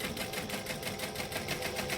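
A sewing machine back stitching through vinyl, its needle running in a steady, even, rapid rhythm, close and continuous with no talk.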